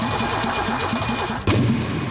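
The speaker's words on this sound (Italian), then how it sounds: "poi vediamo il motore se parte in maniera regolare" An Alfa Romeo GTV6 V6 engine cranks with a rapid, even starter chatter for about a second and a half, then abruptly catches and fires into a loud, rough idle close by.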